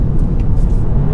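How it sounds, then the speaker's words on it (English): A 2019 Toyota Corolla Hatchback engine blips up loudly on an automatic rev-matched downshift into second, a brief deep close-up rumble rising in revs. "slot the shifter to second, and it's going to build the revs up for me"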